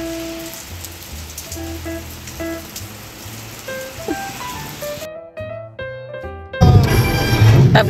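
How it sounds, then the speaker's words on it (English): Rain from a passing storm pours in a constant wash beneath music, briefly thinning before surging louder and closer near the end. "Yep, it's raining all right."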